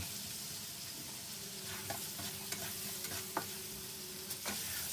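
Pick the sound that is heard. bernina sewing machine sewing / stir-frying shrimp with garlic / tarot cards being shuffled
stir-frying shrimp with garlic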